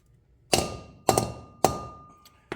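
A grease seal is driven onto the front brake hub of a 1990 Chevy OBS Silverado with a seal installer: three heavy, evenly spaced metallic thunks with a brief ringing tail, close and loud, then a fourth hit starting.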